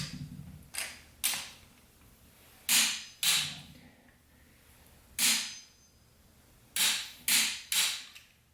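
Engine head bolts being tightened to 100 foot-pounds make sharp, fairly loud creaking snaps, about eight in all, mostly in quick pairs with quiet gaps between them and no speech.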